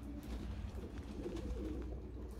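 Released Budapest-breed pigeons in a flock around a loft, with soft cooing and bird calls over a low steady rumble of outdoor background, faint and without talk.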